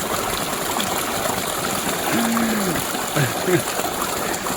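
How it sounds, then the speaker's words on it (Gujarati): Water gushes and trickles steadily from a running pump outlet, with a few short voice-like tones over the flow. "પાણી પીવા માટે મોટર ચાલુ કરી છે"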